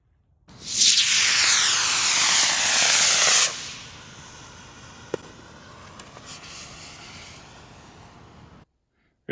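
A model thrust-vector rocket with spin control launching: a loud roaring hiss of the motor erupting then cutting off after about three seconds, followed by faint fading rumble and a few sharp pops.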